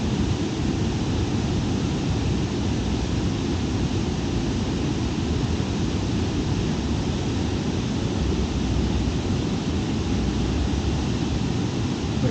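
A fast-flowing river in flood roars as a dense, constant broadband rush, loud and unbroken throughout, with no voices.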